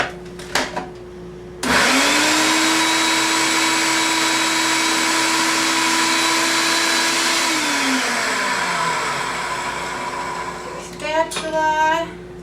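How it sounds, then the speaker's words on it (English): A food processor pulses parsley and onions for kefta burgers, a loud steady whirring motor run of about six seconds that spins down, with brief clatter before and after. "add our parsley and our onions to the food processor so that they blend really well before we add the meat"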